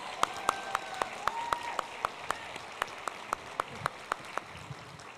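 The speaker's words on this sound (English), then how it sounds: "Big round of applause for our middle school students." Applause at a Pleasantville Public Schools board of education meeting for middle school students, heard as a few distinct, evenly spaced claps over a soft background, sparse and fairly close.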